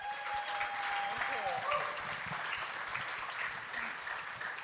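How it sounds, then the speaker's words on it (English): An audience applauds at a thalassemia talk-show panel, steady clapping that fills the whole stretch while a voice speaks over it. "Thank you for the applause"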